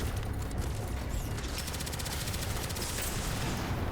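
Rapid SMG gunfire in a video game fills the stretch as a dense, loud, continuous burst of shots, with a faster rattling run of rounds partway through.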